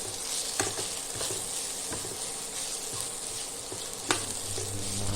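Red chilli powder and turmeric are sautéed in a pan for a sprouted moth bean khichdi, producing a steady low sizzle with occasional spoon taps and stirring scrapes, close and even, with no speech.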